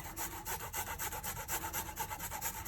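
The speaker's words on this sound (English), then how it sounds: "I'm just gonna grate the garlic" Garlic rasped on a plain hand grater in a home kitchen, steady quick back-and-forth scraping strokes, close and continuous, no talk.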